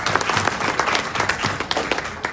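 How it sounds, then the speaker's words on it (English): An audience at a live Kangen Water and Enagic business presentation applauds, a close, steady patter of many hands clapping for a couple of seconds with no talk over it. "Give yourselves another huge round of applause"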